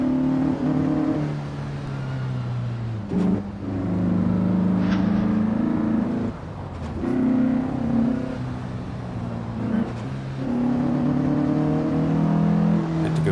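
Race car engine in Assetto Corsa, driven on the Pescara 1957 track with a Fanatec shifter, droning loudly and steadily with repeated brief dips and rises in pitch as gears change, about every three seconds, no talk.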